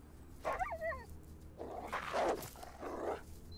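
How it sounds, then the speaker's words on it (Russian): Blind dog mutant in a video game growling and whining in a few short bursts, with snarling, yelping calls over a low game background hum. "А, вон, вон, собака слепая."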